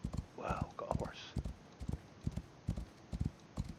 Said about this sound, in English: Wow, got a horse.